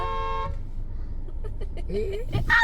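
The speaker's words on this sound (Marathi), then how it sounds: "आमच्या गाडी बिडी शिंगा मारशी" A car horn gives one short, bright honk at the start, followed by people talking and faint background bird clucks.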